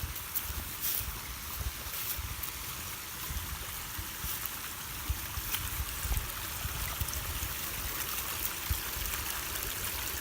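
Creek water rushes and trickles at a hiking trail crossing, a continuous hissing flow close by, mixed with wind buffeting the microphone.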